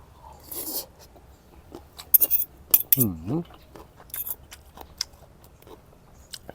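Someone eats stir-fried kale with pork and rice, with spoon clinks against a plate, bites and close chewing sounds scattered through a quiet room.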